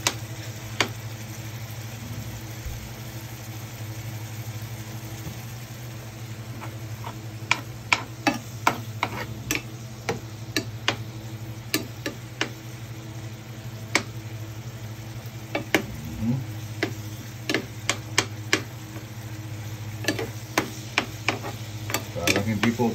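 Garlic fries in a pan with a steady hissing sizzle, dotted with sharp scattered pops and ticks that grow more frequent over time, heard close and without talk.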